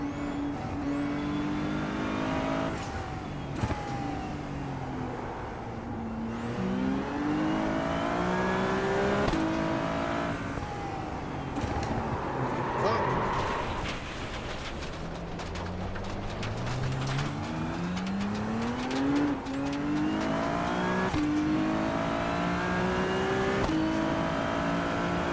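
A race car engine in the iRacing sim at Zandvoort, driven with paddle shifters, revs up and down through repeated gear shifts. The whine rises and drops in steady cycles, loud and continuous.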